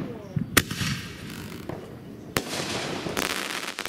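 Fireworks go off in a few sharp cracking bangs, the loudest near the start and middle, with crackling bursts trailing toward the end over a low rumbling background.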